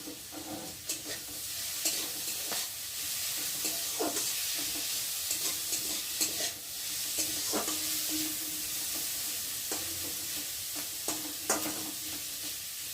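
Green chillies stir-frying in a pan for flattened rice pulao, a soft continuous sizzle with repeated spatula scrapes and taps at irregular intervals, quiet and close.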